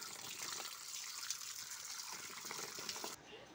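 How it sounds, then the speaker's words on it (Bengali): Koromcha fruit for pickle is washed under running water, a steady splashing gush with faint sloshing that carries on for a few seconds before easing off. "আর এখন আমি ভালো করে ধুয়ে নেব।"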